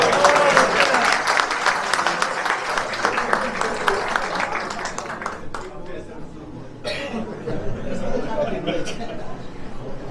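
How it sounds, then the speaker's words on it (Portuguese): At a ceremony opening a new wing of the Santa Casa hospital in Olímpia, a crowd claps warmly for Nequinha's birthday. The loud applause fades after about five seconds into murmured chatter, coughs and a few stray claps. "Gostaria de pedir uma salva de palmas especial para o Nequinha"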